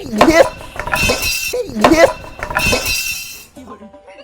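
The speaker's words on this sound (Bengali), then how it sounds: "কড়াই টড়াই ডিম টিম সব উল্টে ফেলে দিচ্ছে" A wok, pans and dishes being knocked over in a kitchen, a series of loud metallic clangs and clattering crashes close by, ending in quieter rattling.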